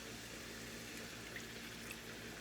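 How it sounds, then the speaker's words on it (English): Water pours steadily into a pot of rice on the stove, a soft, faint continuous splashing hiss with no voices. "the hand that's pouring the water in"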